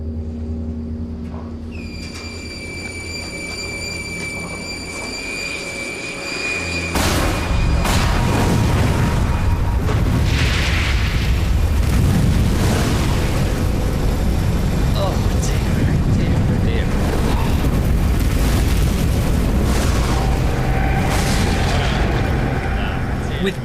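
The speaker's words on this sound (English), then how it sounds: "If they succeed in igniting this mixture of diesel and kerosene, the effect will be as close to the original weapon as we can possibly get." A replica flame weapon ignites a diesel and kerosene mixture with a sudden loud roaring whoosh that sustains as a powerful rumbling blast of fire.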